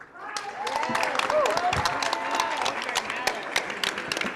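Audience applause at a community college scholarship fundraiser, steady dense clapping from a crowd with a few voices mixed in, moderately loud throughout.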